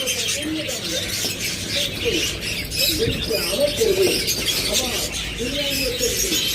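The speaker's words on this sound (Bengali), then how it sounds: "প্রচুর বাজরিগার পাখি রয়েছে" Many pet budgerigars chirp and chatter together in a steady, dense stream of close, overlapping calls, with lovebirds, cockatiels and finches kept nearby.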